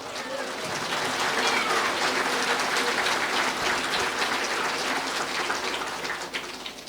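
A church congregation breaks into loud, sustained applause honouring Christ Jesus, a dense wash of many hands clapping for several seconds that fills the room and then tapers slightly at the end.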